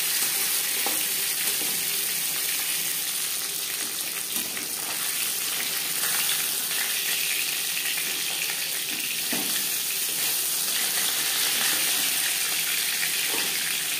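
Katla fish pieces fry lightly in oil, a steady close hiss and sizzle that runs unbroken, with occasional soft crackles and no one talking.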